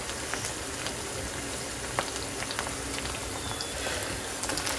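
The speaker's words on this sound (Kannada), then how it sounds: "ಬಾಯ್ಲಿಂಗ್ ವಾಟರ್ಗೆ ಆಯಿಲ್ ಹಾಕು ಸ್ವಲ್ಪ" Water with a little oil added boiling in a pot while cooking paneer biryani, a dense close bubbling and popping with scattered sharper crackles, steady throughout and without speech.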